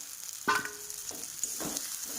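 An egg hits a hot pan with spices, giving a sudden sizzle burst followed by softer crackling and stirring scrapes in a quiet home kitchen.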